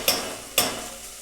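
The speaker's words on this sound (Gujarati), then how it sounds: "તો હવે આપણે તેમાં નાખીશું ટમેટાં." Tomatoes tipped into a pan of hot oil and spices: two sharp clanks of a utensil against the pan, each followed by a bright, steady sizzle close by, with no voices.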